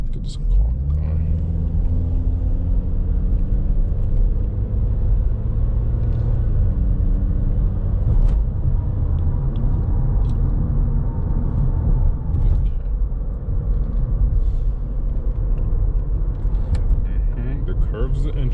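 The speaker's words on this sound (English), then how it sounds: "So let's go over here and get this car going." Cabin sound from a 2012 Honda Accord EX Coupe on the move: a low, steady engine and road rumble with rising and falling tones as it accelerates, continuous and close throughout.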